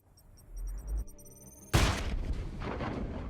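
Grenade blast in the video game Chaos Gate Daemonhunters: a sudden loud broadband boom hits about halfway through, preceded by quieter game tones, then a rumbling, crackling debris tail.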